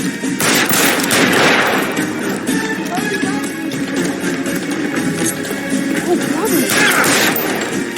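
Gunfire from the video game L.A. Noire crackles in dense, repeated bursts over a continuous wash of game noise and music, with voices talking underneath.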